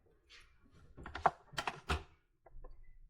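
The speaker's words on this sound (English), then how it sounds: "You can just cut them down with your knife" A knife cuts zucchini scraps on a board in a few sharp, close thunks with short pauses between them, each chop quiet and distinct against a near-silent background.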